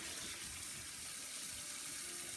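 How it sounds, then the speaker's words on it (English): Running water pours and splashes steadily in a kitchen as peeled apples are dumped in to be washed, a continuous close gushing sound with no voices. "I'll just dump the rest of these in the water."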